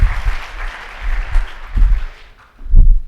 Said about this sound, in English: Round of applause if you think Steve's right.